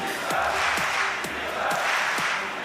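Arena crowd noise at a Counter-Strike esports match, NiP versus Virtus Pro on Inferno at DreamHack Winter 2014 in Jönköping, a steady broad roar of cheering with repeated rhythmic bursts from the audience.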